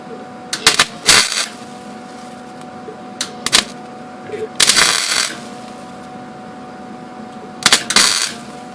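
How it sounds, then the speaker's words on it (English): Short tack welds go onto a worn ATV or motorcycle chain link, heard as several sharp crackling bursts of about half a second each, close up and separated by quiet pauses. "on the link that I'm tacking and weld straight to that"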